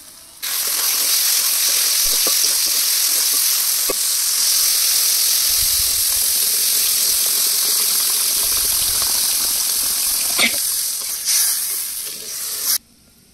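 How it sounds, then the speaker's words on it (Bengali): Water hits sizzling fried spice paste in a pan for a spicy snakehead fish curry cooked outdoors in a village, giving a loud, sustained hiss that starts abruptly, holds steady and cuts off, with no talk. "মশলা খুব সুন্দর করে কষিয়ে নিয়েছি, এবার জল দিয়ে দেব।"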